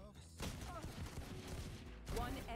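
Sheriff pistol shots in the Valorant video game, a few sharp heavy gunshots ringing out among dense game combat noise, with a voice talking over it.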